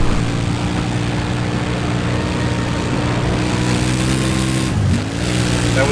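Bomber aircraft in the Battlefield 4 video game, a loud steady engine roar with layered propeller-like harmonic drones that dip briefly near the end as it sweeps past, no talking.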